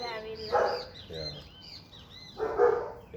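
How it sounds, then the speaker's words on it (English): A neighbor's dog barks loudly in short bursts near a house, two separate volleys heard under and between people talking, with some birdsong in the background. "Yeah, so that's my neighbor's dog."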